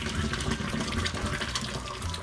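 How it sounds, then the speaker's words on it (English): Water pours and splashes out of a cooking pot after boiling quail eggs, a steady, close, rushing flow with no talk. "I want to quickly get the water out of this"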